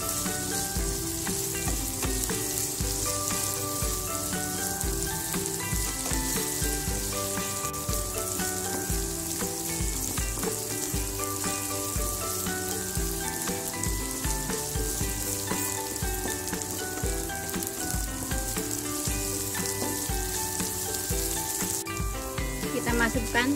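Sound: stir-frying spices in a pan

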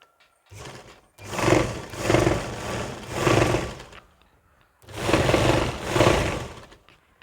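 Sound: sewing machine stitching a churidar

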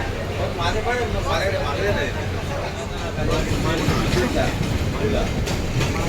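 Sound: local train running from CSMT

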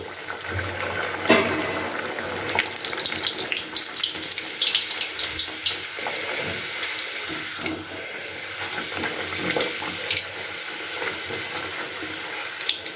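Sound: kachoris (moong dal stuffed) frying in hot oil

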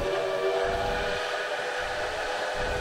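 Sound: train in the video game Railway Empire

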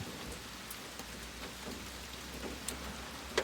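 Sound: rain

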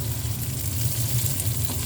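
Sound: stir-frying pickled mustard greens with glass noodles in a pan

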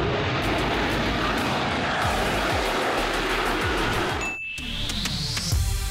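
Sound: vertical takeoff and landing jet aircraft hovering

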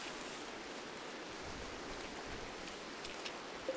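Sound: rain in video game RimWorld

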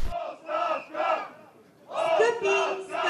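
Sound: crowd chanting and booing at a speech in Veliko Tarnovo

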